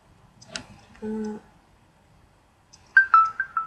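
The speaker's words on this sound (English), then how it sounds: "That's my text message. I quite like it. Jolts me out of whatever I'm doing." A phone's text message notification tone rings out near the end: a short sequence of bright, close electronic beeps following a brief hum and a couple of faint clicks.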